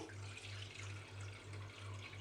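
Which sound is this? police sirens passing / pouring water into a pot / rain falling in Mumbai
pouring water into a pot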